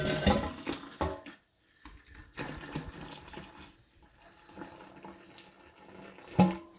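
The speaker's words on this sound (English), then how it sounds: "So this is just hot tap water." Hot tap water gushes from a faucet into a kettle in bursts, loud and close, with short pauses between pours.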